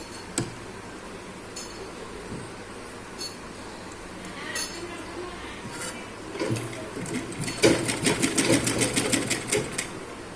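A sewing machine runs half piping onto a cross-cut blouse: quiet handling and scattered clicks, then a rapid burst of stitching toward the end.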